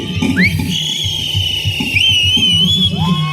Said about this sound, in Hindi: यहां सीटी बजाते हैं